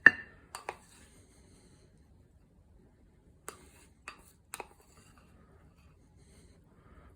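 Dishes clink softly while yacon stir fry is plated over leftover rice, a few sharp isolated chinks of crockery and utensils spread across a quiet background.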